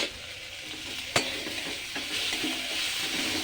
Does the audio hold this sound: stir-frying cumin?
yes